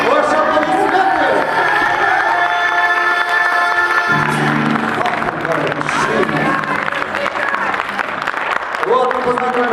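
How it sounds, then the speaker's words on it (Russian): Audience clapping and cheering at a comic International Women's Day show, a lively crowd noise mixed with music and voices, sustained for several seconds and shifting in texture partway through. "Ваши аплодисменты"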